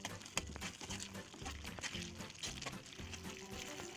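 Paneer bhurji, fresh homemade paneer with kasuri methi and chopped coriander, sizzles and fries in a pan on a gas stove, with steady crackling and occasional clinks of stirring throughout, close and moderately loud.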